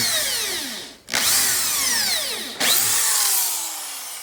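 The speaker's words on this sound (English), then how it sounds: "I'm going to drill this bottom one in, just straight in" A power drill whirs loudly in two sustained runs while drilling a screw hole for mounting an electric heater, its pitch sweeping down under load, separated by a brief stop and restart.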